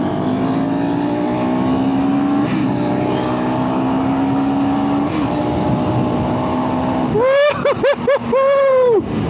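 A KTM SMC-R 390 motorcycle engine idles and runs steadily, then revs in several sharp throttle blips that rise and fall quickly, loud and close.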